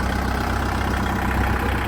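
A new 2022–23 model tractor idles at delivery, its engine holding a steady, close, continuous rumble without any change in pitch or speed.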